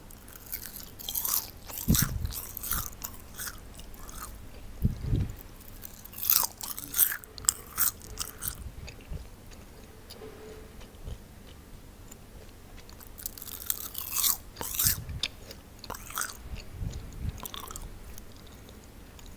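Homemade keto kale chips are eaten up close, with repeated loud crunchy bites and chewing that come in uneven bursts with short pauses between them, and no talking.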